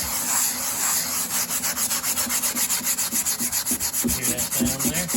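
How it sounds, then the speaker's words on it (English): Steady rhythmic scraping of sandpaper against the rusty metal of a 1960 Volkswagen Beetle gas tank, fast back-and-forth strokes that roughen and sharpen toward the end, close and continuous with no voices. "When you're sanding, you can hear it"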